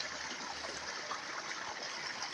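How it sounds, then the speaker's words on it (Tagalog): Strong water flow drains steadily from a flooded bitter gourd field, a continuous broadband rushing and gurgling close by, with no voices. "Yan po, yung tubig namin. Lakas,"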